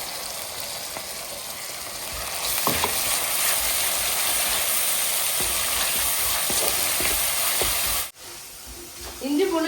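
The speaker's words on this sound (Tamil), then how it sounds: "இஞ்சி பூண்டு நல்லா வதங்கிடுச்சு ஃப்ரெண்ட்ஸ்." Ginger garlic paste sautéing in a pan for Chettinad crab kuzhambu, a steady broadband sizzle with occasional stirring clicks that cuts off abruptly near the end.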